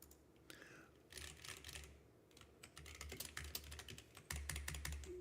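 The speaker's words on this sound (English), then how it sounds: "Please type your keys." Rapid typing on a computer keyboard, close and clear, with irregular bursts of sharp key clicks that grow denser and louder toward the end, with no talking over them.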